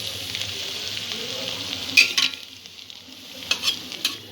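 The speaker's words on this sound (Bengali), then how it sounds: "এপিট ওপিট লাইট ব্রাউন করে ভেজে নিতে হবে।" Chhana bora dumplings frying in oil over a medium-low flame, a steady close hiss with occasional spattering pops and a few clinks of a utensil against the pan, no voices.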